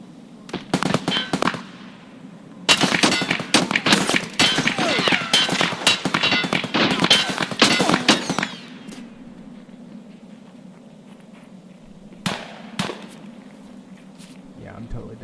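Video game gunfire in a duo match, dense rapid bursts of automatic shots lasting several seconds after a few opening single shots, then a pause and two more isolated shots, loud over a low background hum.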